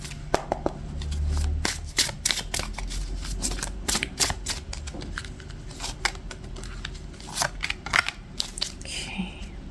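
An oracle card deck is shuffled and cards are pulled, giving dense crisp riffles and flicking card snaps at close range, with a person speaking softly at times.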